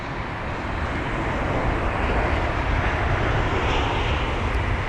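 A British Airways Airbus A320 passes at London Heathrow, a steady broad jet roar that swells gently over several seconds, with no voices.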